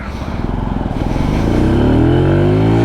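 A Benelli Tornado Naked T125 motorcycle at full throttle, its engine pulsing rapidly and then rising into a loud, continuous climbing whine as it accelerates, heard up close with no talk.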